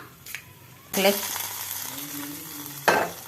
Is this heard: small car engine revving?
no